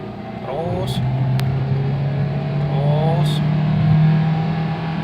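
A Toyota Avanza with Blackcore tuning pulls steadily in fifth gear, its low, even engine drone holding constant with a slight rise in effort, while someone talks over it.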